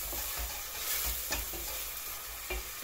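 Onions and peppers sizzle in a pot as a wooden spoon stirs them, giving a steady frying hiss broken by several soft scraping knocks of the spoon, with no voices.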